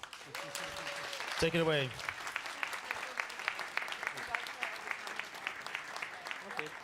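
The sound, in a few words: audience applause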